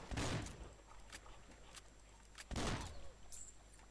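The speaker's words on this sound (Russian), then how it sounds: "перезарядим наше ружье и будем стрелять." Gunfire from a shotgun in the Swamp Attack video game, with two loud, sharp shots about two and a half seconds apart and a few fainter cracks and game noises between them.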